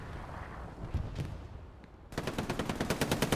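Machine gun fire in the WWII shooter Hell Let Loose rattles out as a rapid, steady burst of about a dozen evenly spaced shots, loud and close, after a few scattered distant bangs.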